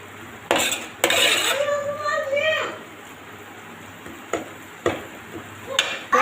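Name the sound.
mixing spices in a cooking pan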